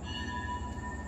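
Thai rapid train pulling away from platform 1 at Surat Thani station at night, a steady low rumble of rolling stock with a faint sustained tonal whine above it, continuous and fairly close.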